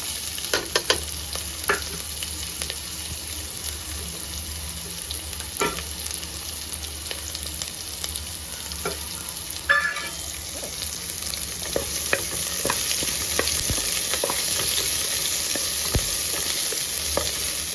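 Finely chopped onions sizzle and crackle steadily in a hot pan, with occasional scraping stirs, close and continuous with no talking.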